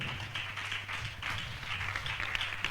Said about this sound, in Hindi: हे जाति जाति के सब लोगों तालियां बजाओ